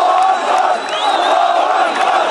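A huge Egyptian crowd roars at the announcement of victory on the night Egypt celebrates its new democracy, a loud, unbroken wall of cheering and shouting that fills the whole moment.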